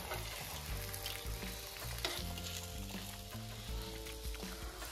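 Malpua and pitha fry in a pan of hot oil, giving a steady close sizzle and crackle. Music plays over the frying, and no one speaks.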